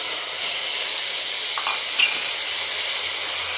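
Whole garam masala with cumin, ginger and chili pastes fries in a pan for butter paneer masala, a loud, steady hiss of sizzling oil with a faint metallic scrape in the middle, no voices.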